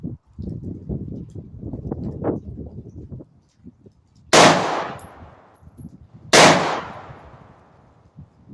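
Two loud, sharp gunshots ring out at target practice a couple of seconds apart, each with a short decaying tail, following a stretch of quiet talking.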